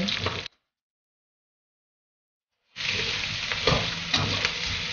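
Garlic and onion fry in a wok with a bright hissing sizzle that cuts out to silence for two seconds, then returns with scraping stirs.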